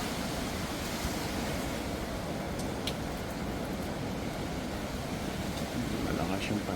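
Strong typhoon wind during Typhoon Sinlaku roars in a continuous dense rush with gusty rumble, loud and close throughout and heavily buffeting the microphone.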